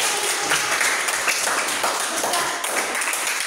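Classroom applause from students during an informatics lesson, a dense, loud, continuous patter of many hands clapping close by for the whole stretch.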